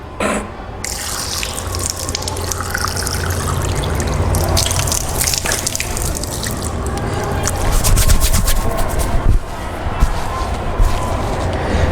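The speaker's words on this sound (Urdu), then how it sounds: "جیسے ہی نلکے سے میں نے پانی لے لیا، چہرہ دھونے کے بعد میں نے فوراً نلکا بند کر دیا" Water runs steadily from a tap while someone washes their face during wudu, a close, continuous splashing gush with scattered drips and small knocks from the sink that never stops.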